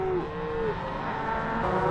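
A bull lowing on a remote Montana cattle drive, one long drawn-out moo at moderate distance, carried over steady outdoor background noise with no talking.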